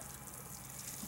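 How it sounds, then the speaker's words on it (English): Watering can pouring a light shower of water onto a freshly sown spinach row, a steady even splashing hiss with no pauses, close and fairly soft. "we just give it a light watering in here"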